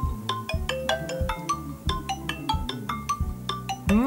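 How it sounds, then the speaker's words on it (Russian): A MIUI 10 phone ringtone made of ringing chimes, a quick rhythmic run of bright bell-like notes over a soft melodic backing, clear and close with no talking. "То есть тут все рингтоны сделаны с такими вот звонкими перезвонами."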